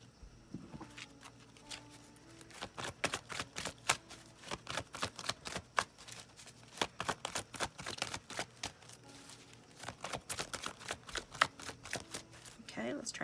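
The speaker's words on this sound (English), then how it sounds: "This is a really big deck, so when they're hard to shuffle, I have to divide them up in order to do it." A large, hard-to-shuffle tarot deck is split and shuffled by hand, producing repeated rapid riffling bursts and card slaps in close, rhythmic clusters, with a voice speaking over it.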